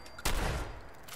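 A single sharp gunshot cracks out in Fallout 4 against a faint background, then trails off into a short echoing tail.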